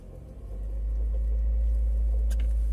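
A Renault car engine with a high-idle fault starts and settles into a steady, loud, close low drone, rising over the first second before holding constant.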